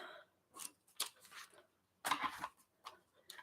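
Scissors cutting a picture out of a glossy magazine page, heard as several short, close snips separated by brief pauses. The snips are quiet, and a slightly louder cluster falls past the midpoint.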